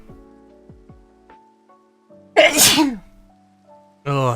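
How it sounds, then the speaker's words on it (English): A single loud, explosive human sneeze bursts out near the mic after a quiet stretch, and a short, bright voiced exhalation follows a moment later. "I'm gonna sneeze"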